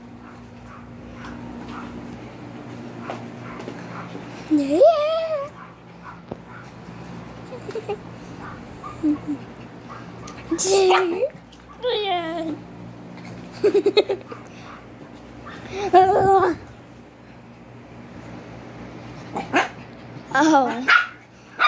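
Two puppies barking and yipping as they play, sharp bursts of barks recurring in short clusters close to the microphone over a low steady hum, with a person speaking briefly between them.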